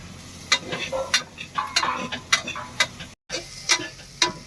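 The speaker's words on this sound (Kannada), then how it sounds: "ಈರುಳ್ಳಿ ಹಾಕ್ತಾ ಇದ್ದೀನಿ ಬೆಳ್ಳುಳ್ಳಿ ಜಜ್ಕೊಂಡಿದ್ದೀನಿ ಅದು ಹಾಕ್ತಾ ಇದ್ದೀನಿ" Onions and crushed garlic cooking in a pan, with soft sizzling broken by sharp scraping and stirring clicks at an uneven rhythm and a brief dropout midway.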